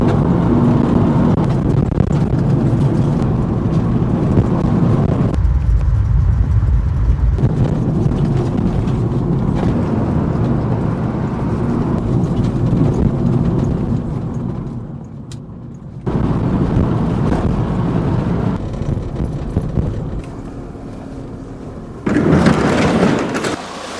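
A diesel VW Beetle on 15-inch wheels runs along twisty back roads, its engine drone and road rumble steady and loud with gusts of wind buffeting the microphone, easing briefly before picking back up.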